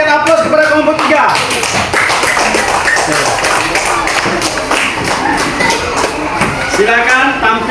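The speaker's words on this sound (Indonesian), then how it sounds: "mari kita berikan aplaus kepada kelompok 3" Group 3 is met with dense, sustained applause from a classroom audience at a teaching performance assessment, with voices talking and calling out over the clapping.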